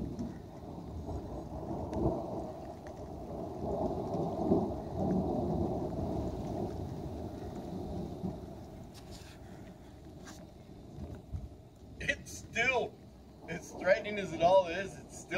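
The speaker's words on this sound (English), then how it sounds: "It's downpouring right now." Arizona monsoon thunderstorm with a long low rumble of thunder and rain, later giving way to people talking and moving about nearby.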